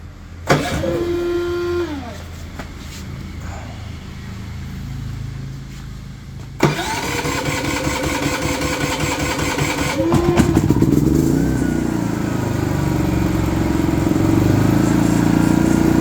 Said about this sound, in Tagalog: So set natin yung generator. Remote start lang siguro pwede na.